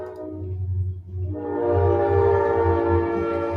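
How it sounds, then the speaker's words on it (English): A train passes with its horn blaring, first a low rumble of the rail cars, then a loud sustained multi-tone horn that swells in and holds to the end. "Can you hear it? Can you hear the train?"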